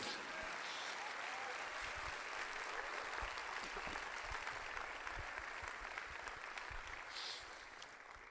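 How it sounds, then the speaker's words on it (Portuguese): A church congregation at a sermon claps together in a sustained, fairly soft round of applause, with a few sharper individual claps standing out and the sound tapering near the end. "Você pode aplaudir ao Senhor por isso?"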